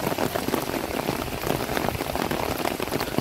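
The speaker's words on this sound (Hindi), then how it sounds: "बारिश होने लगी रास्ते में" Steady rain patters hard and evenly on a surface during a roadside stop to wait out a downpour, a dense, continuous hiss with no voices.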